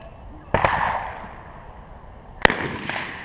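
Two sharp carbine gunshots crack at a defensive carbine shooting stage in South Florida, the first loud and near, the second about two seconds later, followed by a fainter pop, with outdoor background noise between.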